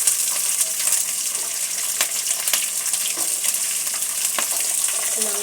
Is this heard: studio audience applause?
no